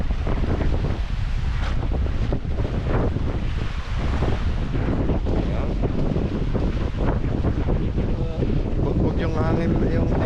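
Strong wind buffets the microphone at sea ahead of an approaching typhoon, a constant loud roaring rush mixed with sloshing water, with voices talking faintly underneath.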